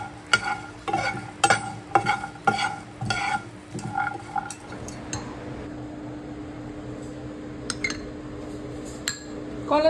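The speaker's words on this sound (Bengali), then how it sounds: "এগুলোকে একটু শুকনো খোলায় ভেজে তারপরে মিক্সিতে পেস্ট করব" Garlic, black cumin and green chillies dry-roast in a pan, first with sharp spoon clinks and scraping stirs, then settling into a quieter, low crackle.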